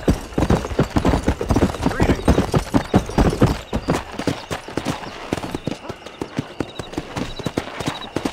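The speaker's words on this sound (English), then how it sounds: "So we're going to take our horse there in case we need it." Horse hooves in the video game Red Dead Redemption clip-clop in a quick, uneven rhythm, loud and close, with faint background ambience and occasional small chimes.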